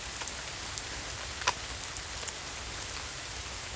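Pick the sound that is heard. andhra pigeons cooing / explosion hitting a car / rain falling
rain falling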